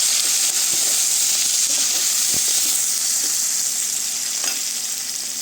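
Onion pieces frying in a pan: a loud, steady, hissing sizzle close up, with a few faint clicks from the pan and no talk.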